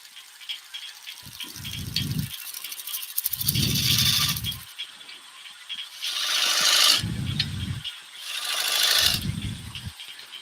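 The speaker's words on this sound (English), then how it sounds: "start marking it out with a skew chisel" A skew chisel marks out wood spinning on a lathe, several loud, close scraping passes of a second or two each, separated by the motor's steady whir, with no talk.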